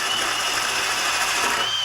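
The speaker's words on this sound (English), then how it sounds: "I use a stainless or a wire brush on a drill and just lay into it." A wire brush spinning on a drill scours epoxy off a plastic tank, giving a continuous close, harsh whirring scrape that holds steady throughout the short burst.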